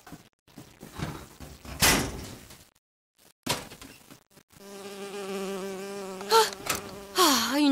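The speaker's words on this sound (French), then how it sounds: "Oh, oh, une abeille." A bee buzzing in the video game Bioshock Infinite, its whining drone rising and bending in pitch as it flies close, following several sharp thuds and clatters earlier on.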